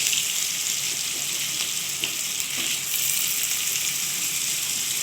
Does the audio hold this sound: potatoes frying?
yes